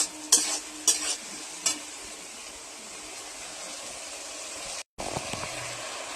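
Onion with ginger-garlic paste being stirred and sautéed in a pan for a fish curry: a soft continuous sizzle with a few sharp scraping clicks early on and a brief cut near the end.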